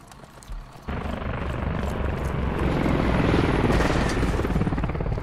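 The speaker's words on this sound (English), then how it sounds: "One heli just left gas." In the military shooter game Squad, a helicopter spools up and lifts off from a refuel point, its rotor thudding in a steady rapid chop that grows louder and closer, with faint voice chatter.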